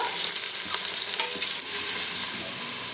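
Onions frying in hot oil until golden, a steady dense sizzle with occasional stirring, close and fairly loud, with no one speaking.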